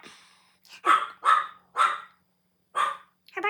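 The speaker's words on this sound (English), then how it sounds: "Please stand by till she stops barking again." A dog barks five times in a moderately close indoor space, with the barks spaced unevenly and a pause before the last two, and no talking.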